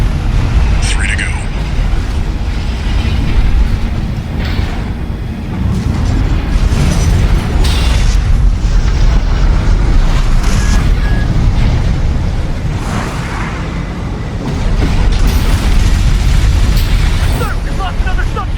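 A sub-generator exploding during a battle in the mech video game Armored Core VI: heavy, sustained rumbling booms and blasts fill the whole stretch, loud and close, with voices talking over the din.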